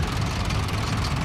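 An Allis-Chalmers crawler tractor idles at a vintage rally as it is brought onto tractor balancing ramps: a steady, close, low diesel rumble with a faint knocking texture, continuous throughout with no talk.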